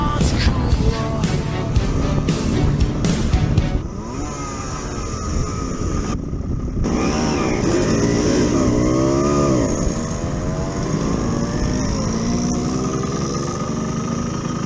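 Simson and MZ motorcycles ride along the west coast of the UK's West Highlands, a loud, steady engine drone close by with shifting pitch as the bikes change gear, continuous throughout with wind noise.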